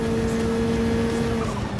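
Race car in Gran Turismo 7 braking hard with front tires scrubbing: a steady engine drone with a high tonal whine held throughout, then a slight dip near the end as speed drops.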